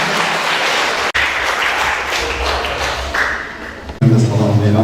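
An audience applauds steadily in a school hall during a commemoration event for a fallen soldier, the clapping loud and continuous throughout with a speaking voice over it.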